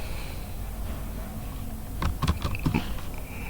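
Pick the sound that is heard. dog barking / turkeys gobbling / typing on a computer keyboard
typing on a computer keyboard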